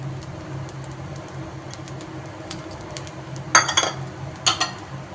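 Grated coconut stirred into red poha upma in a pan, with light metallic scrapes and clinks of a spoon against the pan building to a couple of louder clattering strokes near the end, close and without talk.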